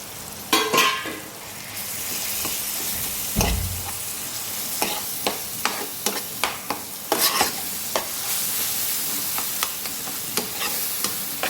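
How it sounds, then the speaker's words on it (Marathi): A spoon stirs mashed roasted brinjal into onion-tomato masala in a pan, with scraping strokes and clicks against the metal over a steady low sizzle, close and alone. "हे वांग आपल्याला त्या मसाल्यामध्ये कांदा टॅमॅटोमध्ये व्यवस्थित मिक्स करून घ्यायचं आहे"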